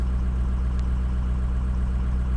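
A cold car engine idling steadily right up close, a continuous low rumbling drone with a faint periodic pulse and no change in pace, with no voices.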